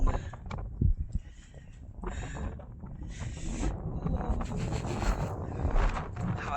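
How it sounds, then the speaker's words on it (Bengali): Strong cold wind blowing by a lake below snowy mountains, buffeting the microphone in heavy rumbling gusts that swell and fade throughout. "হাওয়া চলছে বিশাল"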